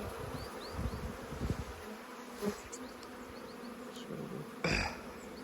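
A dense, steady hum of honeybees buzzing around a hive during a move to a new hive, close and continuous, with a few brief knocks and rustles over the swarm.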